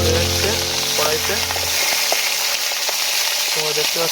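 Fish frying in hot oil in a wok over a clay stove outdoors in a village, a loud dense continuous sizzle with crackling bubbles and occasional spatula clinks, constant throughout.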